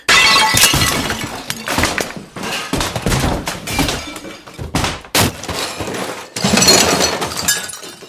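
A radio smashed to pieces: loud, repeated crashing and shattering impacts with clinking fragments, coming in rapid bursts throughout.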